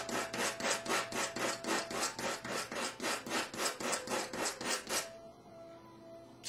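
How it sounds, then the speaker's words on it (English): Coarse 80-grit sandpaper rasps back and forth on wood in quick, even strokes, about a dozen passes, then stops. "I'm going to go back to the sandpaper. and in this case is extremely coarse 80 grit sandpaper."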